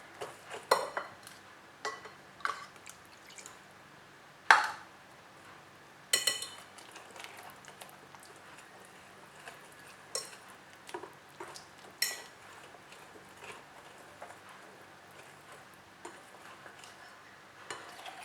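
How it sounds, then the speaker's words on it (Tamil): Utensil scraping and clinking in a pan while melted Oreo biscuits are stirred with milk, with soft intermittent taps and a few sharper knocks spread over a quiet background. "இப்போ நல்லா கிளறி விட்டுக்கிட்டேன்."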